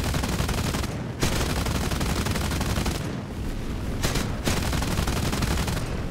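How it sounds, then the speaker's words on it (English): Aircraft cannons fire in War Thunder air combat, a loud continuous rapid hammering stream broken by a few brief pauses. "Let's just get some shots in right now"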